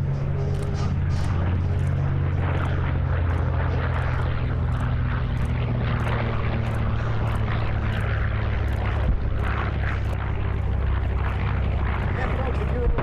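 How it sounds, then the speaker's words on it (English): A B-25 bomber and a P-51 Mustang, both North American Aviation propeller warplanes, flying at a military airshow, their engines droning steadily and loudly throughout under an announcer's voice over the public address. "take a look from the right, the B-25 and the P-51"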